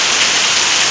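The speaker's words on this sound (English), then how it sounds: "Beautifully raining here." Steady rain pours down amid trees outside an artist's studio and visitor hall, a dense, even hiss with no pauses across the short stretch.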